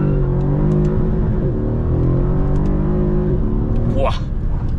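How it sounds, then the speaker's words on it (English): Mercedes CLS63 with a biturbo V8 engine, heard from inside as it accelerates, a loud deep engine drone with harmonic tones rising and shifting, a brief high whistle near the end. "You hear that incredible V8 B-turbo noise"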